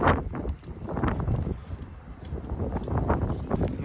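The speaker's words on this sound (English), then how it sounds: "The sound of that wind, it's whistling" Strong wind sweeps across an open Scottish hillside on a stormy night hike, buffeting the microphone with a continuous loud rumbling roar that swells and eases in gusts.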